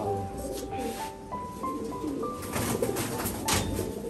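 Giribaj pigeons cooing close by, soft repeated throaty coos over a background of low room noise and faint voices.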